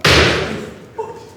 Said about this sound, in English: We're getting a test spark to kick off now that JP's going to fire